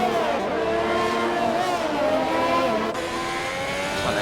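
Alfa Romeo race car engine in a racing video game round set in Vietnam: a continuous, loud, close engine roar with shifting pitch as it revs through gears.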